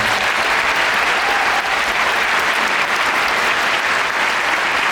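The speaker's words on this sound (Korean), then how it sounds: "박수 한 번 주세요" An audience claps loudly and continuously at a Korean talk show about actors, with dense, sustained applause filling the whole stretch and no pause.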